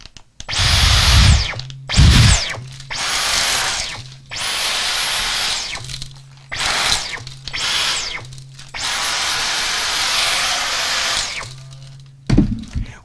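Dyson V15 Detect cordless vacuum cleaner switching on and off repeatedly in short bursts, a loud close whine with a high tone, with clicks and handling noises between runs, no talking.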